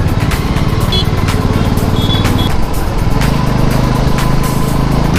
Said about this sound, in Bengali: প্রচণ্ড ট্রাফিক বস, প্রচণ্ড